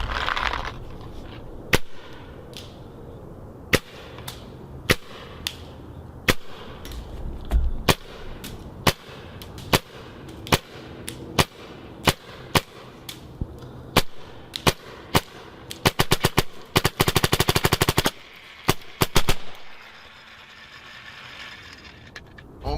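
An Angel 05 Speed paintball marker fires a long string of sharp, loud shots, spaced at first and then bursting into a rapid volley before trailing off into quiet air hiss.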